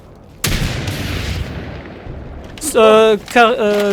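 Gunfire in a battle royale video game: a dense burst of booming shots fills the opening second, fading into a low rumble, before a voice starts talking over the game.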